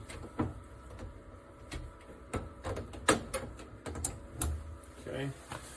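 Clunks, scrapes and metallic knocks as an oven door is handled and fitted into place, irregular bumps close by with some background noise.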